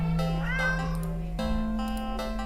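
A black cat in the video game Do Not Take This Cat Home meows in a couple of drawn-out, rising and falling calls over a steady low background hum, close and fairly clear.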